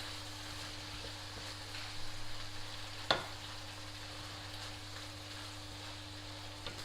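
Beef starting to cook in a pan for beef lasagne gives a faint, steady frying hiss with a low background hum and one brief clack partway through.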